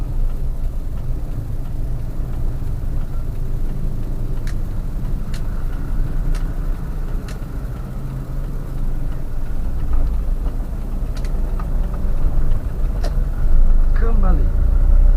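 A car's engine runs steadily through a clutch-control driving lesson, a continuous low rumble with a few sharp clicks and a brief rise near the end, while an instructor talks over it.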